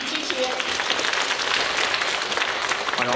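Audience applauding at a 20th anniversary dance showcase, steady dense clapping filling the room for a few seconds, with faint voices underneath.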